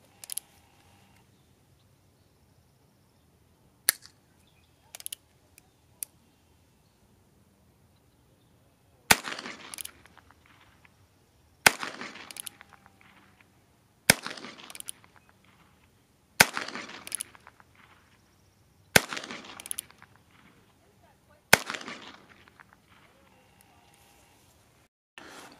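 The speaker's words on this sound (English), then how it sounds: "So I've got all six shots on the cardboard, though it does seem to be pulling slightly to the left." A gun blade fires at a cardboard target, giving a few faint clicks early on, then six sharp, loud cracks spaced a couple of seconds apart, each trailing off briefly.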